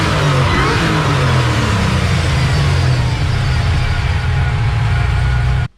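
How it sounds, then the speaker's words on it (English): Supercharged LSA V8 in a Monte Carlo revving steadily with a loud, continuous engine roar and a high blower whine on top, close and sustained for several seconds before cutting off abruptly. "Let's do it again from the front so you can hear the blower."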